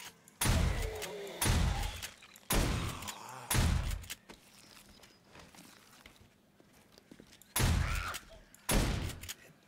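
Shotgun blasts against zombies in 7 Days to Die: loud, heavy booms fired one after another in pairs with short pauses between, quieter shuffling and background noise filling the gaps.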